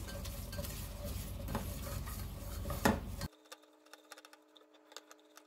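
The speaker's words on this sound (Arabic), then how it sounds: "احمص الدقيق مع السمنه كده تحميصه حلوه لحد ما اشم كده ريحه الدقيق بالسمنه" Flour being stirred and toasted in ghee in a pot, a steady scraping, sizzling texture close by for about three seconds, then it cuts to quieter scattered clinks and taps.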